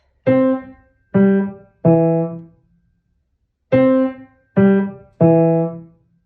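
Six short, separate piano notes from the Super Mario Bros. theme, struck in two groups of three with a pause between, each cut off cleanly rather than held.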